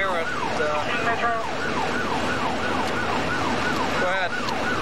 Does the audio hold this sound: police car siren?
yes